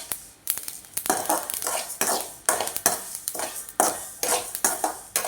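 Sesame seeds dry-roast in a pan for idli podi, crackling and popping close up as repeated scraping stirs sweep through them in a steady rhythm, with no voices.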